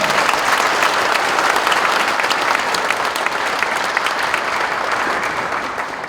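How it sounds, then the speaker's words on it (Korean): A church congregation applauds steadily to welcome the assembly president at a thanksgiving service marking a church's 72nd anniversary with retirements and ordinations; dense, sustained clapping fills the room, even throughout and tapering slightly at the end. "우리 총회장님 나오실 때 따뜻한 축복의 박수로 맞이하도록 하겠습니다."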